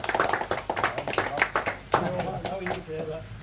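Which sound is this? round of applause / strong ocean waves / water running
round of applause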